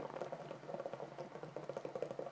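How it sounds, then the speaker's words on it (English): Eggnog heating in a pot gives off soft, quick bubbling and popping, a faint, close, irregular patter that continues steadily without any talk over it. "It's not really bubbling as much as we expected"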